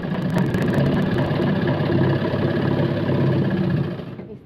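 A sewing machine stitches the hem of a salwar leg with a continuous, even mechanical whir. It runs steadily for almost four seconds, then winds down and stops.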